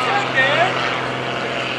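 An MX-2 aerobatic airplane's propeller engine at the 2015 Greenwood Lake Airshow, drawing out a steady droning hum during a slow stall maneuver, with a voice talking over it.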